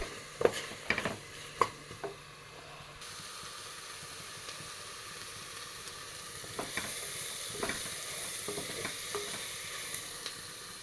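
Ground coriander, turmeric and chilli powder frying in hot oil for Coimbatore-style spiced rice, with a few sharp spatula clinks at the start, then an even low sizzle and sporadic scraping strokes, close and without talk.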